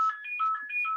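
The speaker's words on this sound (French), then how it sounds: "C'est un téléphone." A telephone rings loudly and close, sounding a steady, warbling electronic tone that repeats in quick pulses across the whole second, and no talking is heard.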